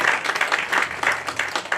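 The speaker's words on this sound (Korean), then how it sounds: "뜨거운 박수 부탁드리겠습니다" Audience applause at an award ceremony, a lively burst of many hands clapping in a steady rapid patter that fills the room for the whole stretch.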